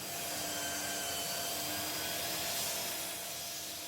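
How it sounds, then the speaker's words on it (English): A belt sander works the underside of a live-edge black walnut epoxy tabletop with a steady, even whirring hiss at moderate level, continuous with no talk. "I grabbed the belt sander and started to sand that underside"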